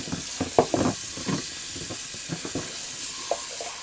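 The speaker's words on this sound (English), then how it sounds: "I'll just rinse that out." Water runs and splashes while a smoking pipe bowl is rinsed to wash a small piece of soap out, giving a steady close hiss broken by a few brief sloshing bursts.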